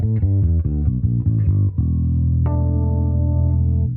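Electric bass through a chorus effect on a Neural DSP Quad Cortex: a fast string of plucked notes, then a long shimmering low note with a second note added over it, ringing out clearly with no voices.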